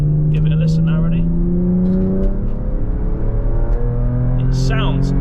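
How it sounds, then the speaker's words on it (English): A petrol V6 Jaguar XF engine revs in manual mode, its steady loud tones climbing in pitch before a gear change drops them and they rise again, with brief talk over the top. "So you can hear the engine going on the manual."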